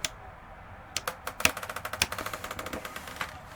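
A 2008 Keystone Cougar 276RLS travel trailer's slide-out gives off a steady run of sharp mechanical clicks as it moves, about three or four per second, close and fairly loud with no talking.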